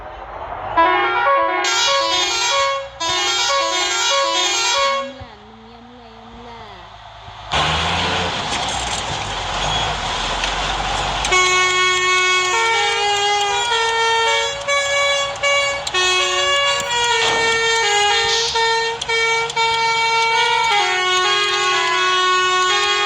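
A Nepali bus horn honks a repeating melodic tune, pauses under road noise, then blares a long sustained multi-tone honk, loud and close.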